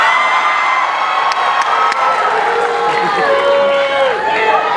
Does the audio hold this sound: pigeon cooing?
no